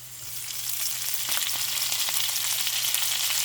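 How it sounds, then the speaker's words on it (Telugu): Chopped fenugreek leaves fry in oil with a steady, close hiss and crackle that builds slightly and holds throughout, with no voices. "ఇది ఆయిల్లో మంచిగా ఫ్రై కావాలి."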